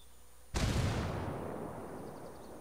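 A frag grenade blows up in a multiplayer shooter game, a sudden loud blast followed by a long rumbling decay that fades over two seconds, alone with no talk.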